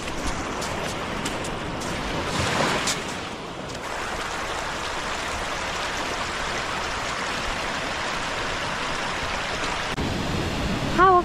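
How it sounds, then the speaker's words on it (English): A waterfall pours onto a sunny Cornwall beach and into the sea, making a steady loud rushing wash with a brief surge of splashing near the start, heard alone without talk. "How often do you get to see a waterfall pouring into the sea like this on the beach?"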